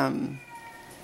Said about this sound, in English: I'm sorry if y'all can hear my cat in the background.